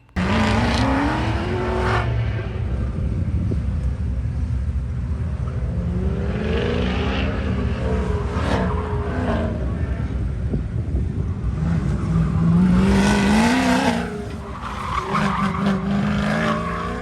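Cars run an autocross course at LS Fest Texas with steady loud engine roar, rising and falling revs and tire squeal through the turns, continuous and close.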